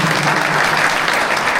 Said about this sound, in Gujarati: તાળીઓના ગડગડાટથી આપણે એમના આગમનને વધાવીએ